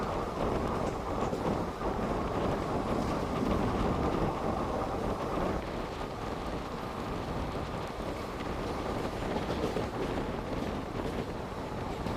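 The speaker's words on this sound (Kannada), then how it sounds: "ನಮ್ಮ ಟ್ರೈನ್ ಈಗ ಪಾಂಡವಪುರ ರೈಲ್ವೆ ಸ್ಟೇಷನ್ನ ಸ್ಕಿಪ್ ಮಾಡ್ತಿದೆ" Wodeyar Express train on the Mysore–Bangalore line running through Pandavapura station without stopping, heard from on board as a steady, loud rumble of wheels and carriage noise with rushing air throughout.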